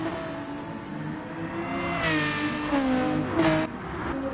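Mercedes-Benz race car at Bathurst: a steady engine drone swells as the car approaches, with rising and falling harmonic pitch as it accelerates and passes, moderately loud with a sharp louder burst near the end.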